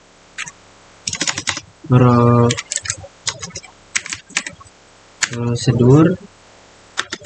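Laptop keys clatter in quick close bursts while a SQL stored procedure is typed, the clicking running alongside a voice that talks in short stretches.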